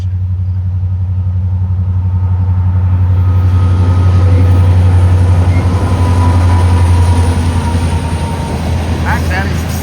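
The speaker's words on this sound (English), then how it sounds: "He's a steel train" Freight train hauling steel to a steel mill in Middletown, Ohio rolls past close by, a loud sustained rumble with steady wheel and wagon noise building and fading slightly, with no talking heard.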